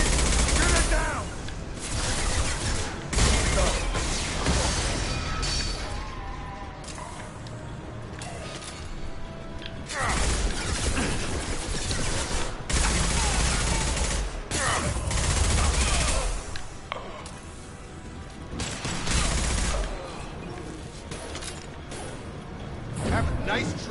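Mass Effect 2 combat with bursts of gunfire and mechanical clanks recurring through the whole stretch, loud and dense, with voices calling out between volleys.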